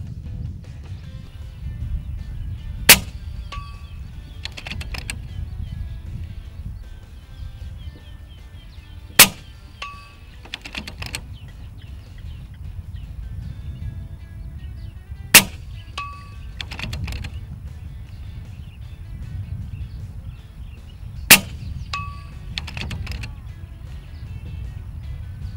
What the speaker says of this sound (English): So let's shoot a quick group in 100 yards